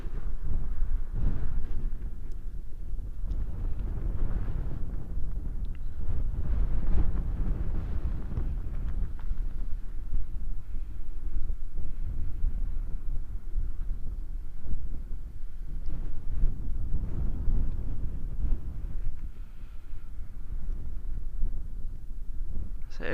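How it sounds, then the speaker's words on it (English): Strong wind buffets an outdoor microphone on a nature outing, a steady low rumbling roar that swells and gusts without pause for the whole stretch, with no one talking. "if the wind continues to strengthen like it's doing at the moment"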